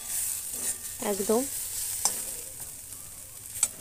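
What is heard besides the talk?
suji khasta snack frying in a pan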